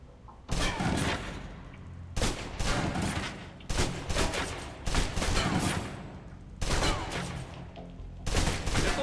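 Submachine gun fire in the video game Alpha Protocol, loud sustained bursts of rapid automatic shots broken by short pauses, four or five bursts in a row with no talking.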